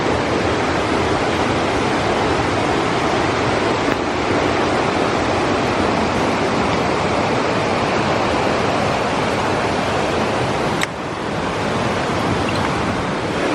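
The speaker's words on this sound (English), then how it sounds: "We are right above the creek here." Creek water rushing below a narrow, steep trail, a loud continuous roar of flowing water with wind buffeting the microphone, steady throughout with no voices.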